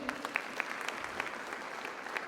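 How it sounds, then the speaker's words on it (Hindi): Applause from a comedy show audience in Bangkok, a fairly faint, steady patter of many hands clapping with a few sharper claps standing out. "एक बार बजाज एलियंस के लिए जरा जोरदार तालियां बजा दीजिए"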